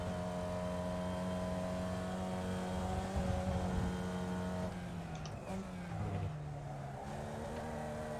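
A single-seater race car engine in the iRacing sim holds a steady, droning note at moderate distance, shifting pitch partway through as it changes gear, with no talk over it.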